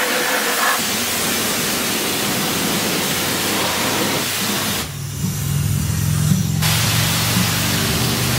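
Aerosol or pressurized paint spraying onto an SRT Hellcat car wheel, a steady loud broadband hiss that runs continuously, with a brief pause in the middle before the spray resumes.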